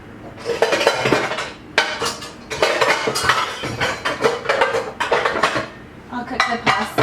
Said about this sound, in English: let me go ahead and get my pan out